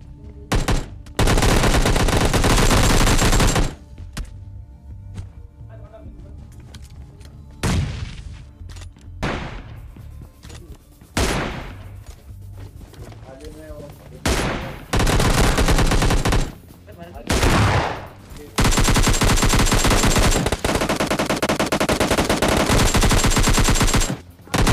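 Bursts of automatic gunfire from a shooter video game come in loud, dense volleys of several seconds each, separated by quieter gaps with faint background sound.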